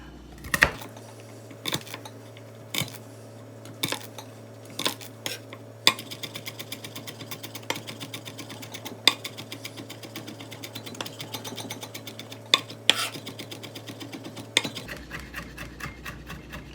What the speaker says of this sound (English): I like to smash the garlic first and then go at it.